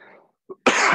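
A single sneeze indoors during a podcast discussion: a short sharp burst at the end, preceded by a faint intake and a brief catch of breath.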